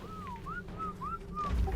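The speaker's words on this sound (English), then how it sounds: "There's someone in here whistling." Someone whistles inside the ARK survival video game, giving a short run of rising and falling notes in a quick, repeated pattern over a low background rumble, with a louder thud near the end.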